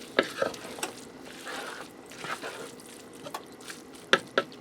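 Shredded cheese is stirred into a taco tot casserole in a pan with the heat off, giving soft, sticky scraping and squelching with a few sharper spoon clicks, close and fairly quiet.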